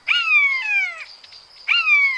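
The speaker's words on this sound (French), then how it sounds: "Et voilà la buse variable." A common buzzard sends out two long, drawn-out mewing calls that slide downward, separated by a pause, clear and fairly close with no talking.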